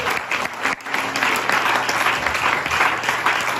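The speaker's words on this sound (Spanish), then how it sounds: "Dele fuerte esas palmas al Rey" Loud, sustained applause from a church congregation, with dense continuous clapping that briefly dips before swelling again.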